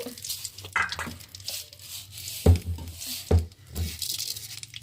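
Urad dal and mustard seeds crackle and pop in hot tempering oil, a close, busy patter broken by a few sharper bursts.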